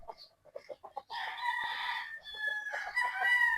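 A game-farm rooster, one of several fighting cocks such as Boston cross and white claret birds, crows loudly and up close in one long harmonic call after a few short clucks.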